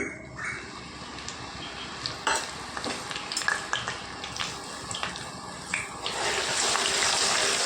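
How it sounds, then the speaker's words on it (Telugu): Onion and tomato paste sizzling and crackling as it drops into hot oil for a tamarind curry, with steady close frying and occasional stirring clatter that builds louder toward the end. "ఒక టమాటా అండి పేస్ట్ చేసుకుని ఉంచుకున్నాను. వేసుకుందాం. నూనె వేడెక్కింది."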